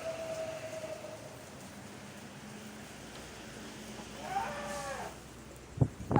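Cattle moo at an Indonesian livestock market where animals are sold for Eid al-Adha sacrifice, a drawn-out low call from one animal followed by another rising moo, over steady crowd and market noise, with a couple of sharp knocks at the end.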